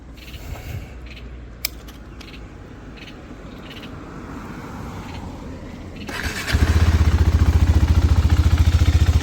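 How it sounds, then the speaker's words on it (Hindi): A KTM single-cylinder motorcycle engine starts and settles into a loud, steady thump, preceded by quieter clatter and ambient noise. "साउंड इसकी कोई स्पोर्ट्स बाइक की नहीं है क्योंकि ये सिंगल सिलेंडर जो है"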